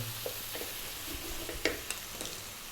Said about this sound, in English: We're now going to add the tomatoes in